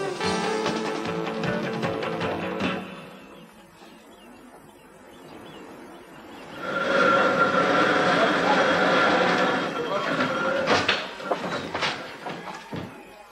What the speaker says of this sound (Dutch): De goederentrein klimt net uit zijn remise aan de andere kant van het meer